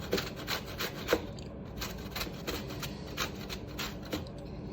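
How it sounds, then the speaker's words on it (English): A washed lemon rubbed over a zester for a yogurt cake, making steady, close, soft rasping strokes in an even rhythm with no talking. "So the last thing I'm going to add is a lemon zest."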